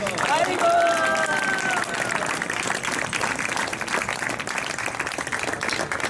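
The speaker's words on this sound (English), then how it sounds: "So let's give a big round of applause for our priest." An audience at a 2017 initiation ceremony applauds the priest, a steady wash of clapping under a brief tonal sound at the start, with crowd murmur and a voice continuing throughout.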